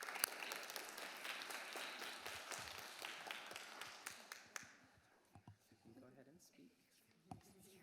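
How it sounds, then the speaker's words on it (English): Audience applause at an education advisory board meeting, a dense spell of clapping for about five seconds that thins into scattered claps and quiet room noise. "Let's give them a round of applause."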